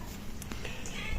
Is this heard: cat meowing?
yes